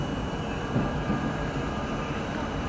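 A 1964 Budd R32 New York City subway train runs along the elevated J line toward Broad Street, a steady broadband rumble and roar that holds even and loud throughout without a break.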